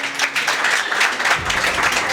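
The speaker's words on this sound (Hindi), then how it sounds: "एक बार जोरदार तालियों से स्वागत हो जाए सर का" An audience at a coaching institute's annual function in Sangod claps loudly to welcome a guest, a brief, close, continuous burst of applause with no talk.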